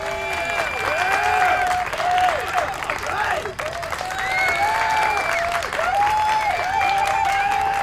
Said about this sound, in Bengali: সবাই এবার জোরে হাততালি দিয়ে উঠল।